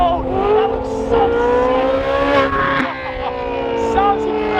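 A Ferrari 458's engine revs hard and loud, its pitch climbing and swelling as the car drives past close by, with voices talking underneath.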